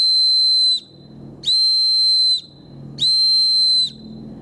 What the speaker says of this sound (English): The whistle is very loud.